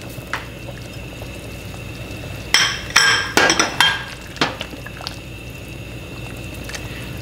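Eggplant goes into a pot of boiling beef rib sinigang soup, with a short cluster of clinks, bumps and splashes against the pot over a steady low bubbling simmer.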